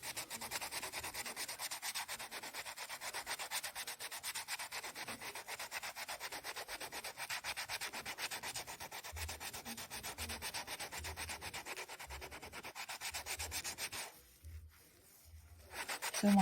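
Steady rhythmic rubbing as 120-grit sandpaper is worked across the back of a polymer clay pendant, strokes continuing for most of the time with a brief pause near the end, close and fairly quiet.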